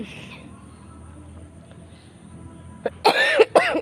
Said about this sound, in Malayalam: എനിക്ക് നല്ല ചുമയൊക്കെയാണ്